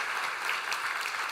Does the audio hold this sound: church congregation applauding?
yes